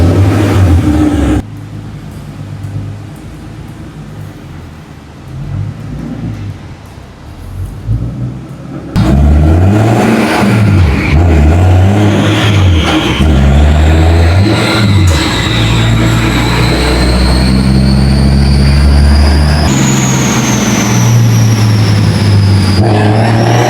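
BMW E36 with an M50 engine runs on a dyno; after a quieter stretch the engine roars loud and close, revving up and down in repeated sweeps with rising whine, sustained and steady to the end.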